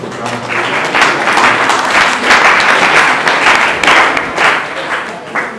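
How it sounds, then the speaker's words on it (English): Applause from a lecture audience at a homecoming event at a Christian school, steady and dense for several seconds, filling the hall at fairly close range. "A round of applause for us."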